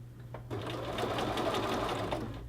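A sewing machine stitches a shirt collar onto its collar band, running steadily at close range for a couple of seconds after a brief pause, with no talk over it.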